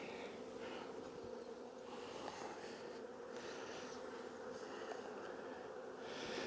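Honeybees hum in a steady, close buzz, swelling and fading slightly as they move around, with no talking.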